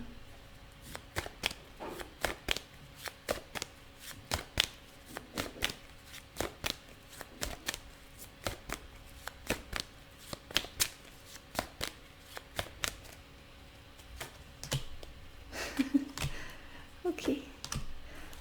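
Tarot cards are shuffled and pulled up close, a run of sharp papery flicks and riffles in irregular bursts, fairly quiet with a faint low voice near the end.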